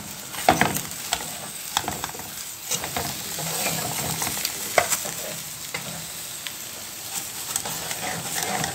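Fish fries in a pan on a gas stove, with a constant oily sizzle and occasional sharp clinks and scrapes of a utensil as pieces are turned, close by and without talk.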